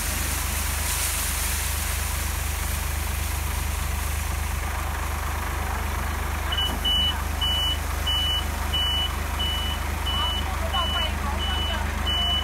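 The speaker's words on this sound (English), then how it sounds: "She's teaching the other lady how to drive the big truck, so hope she does a good first time." A large truck backs up with a series of intermittent high reversing beeps over a steady engine idle and farmyard background noise, the beeps starting partway through.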